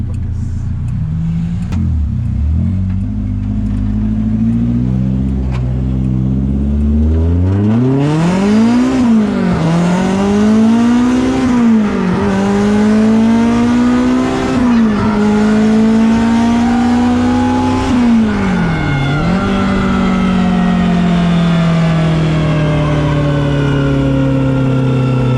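A small four-cylinder 4AG engine in a 1985 Corolla drift car revs hard and climbs through the gears, its pitch repeatedly rising and dipping, loud and close, with no talking.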